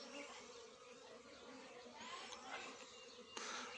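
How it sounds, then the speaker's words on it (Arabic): Honey bees swarming around a frame hung from a grapevine, producing a dense, continuous buzzing hum from many insects close by, with a faint brief knock near the end. "حنا علقنا الاطار بهذا الشكل على ما يتجمع النحل كامل"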